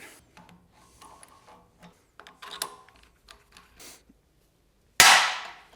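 A worn trailing arm bushing from a BMW E46 330i bursts free of an extraction press with a single sharp, loud crack, then a brief decaying ring. Quieter clinks and mechanical clatter from the press setup come before it.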